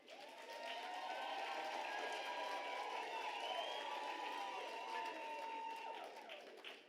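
Graduates clap their hands at the University of South Africa's 2025 autumn graduation ceremony, a dense, steady wash of applause from a large crowd that holds for about seven seconds before tapering slightly at the end.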